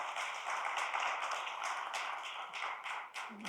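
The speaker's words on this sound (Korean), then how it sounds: "우리 감사의 박수 전해드립니다." Church congregation applauding during a Sunday service in a Korean church, a steady wash of many hands clapping at moderate volume throughout, without talk over it.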